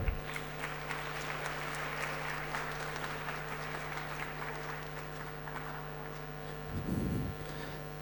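A conference audience gives a sustained round of applause to welcome a speaker. The clapping is even and steady, then swells near the end with a louder burst of crowd noise.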